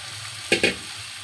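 Two quick scrapes of a spoon through small local shrimp and pumpkin in a frying pan, set against a faint, steady sizzle in a short, quiet stretch.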